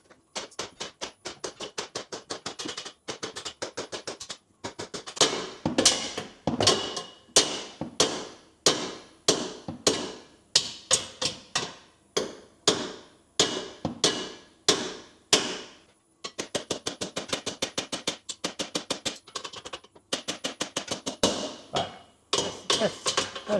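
A big hammer strikes a steel part of a jetski and boat trailer under construction, delivering long runs of sharp, loud, evenly spaced metallic blows with brief pauses between series.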